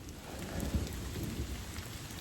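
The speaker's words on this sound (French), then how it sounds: "Vous entendez encore les éclairs." Steady heavy rain pours during a thunderstorm on the Appalachian Trail in Pennsylvania, with a low rolling rumble of thunder beneath the constant hiss; no voices.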